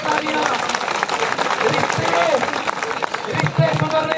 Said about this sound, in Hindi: इसके लिए उनके लिए बहुत बहुत तालियां